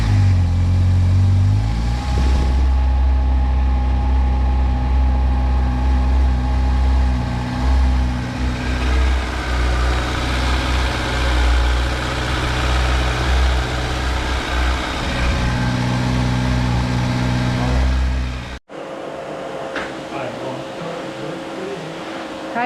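A motorcycle engine, woken after a winter of rest, idles loud and close, then revs in rising and falling surges for about eighteen seconds before cutting off into quieter background noise.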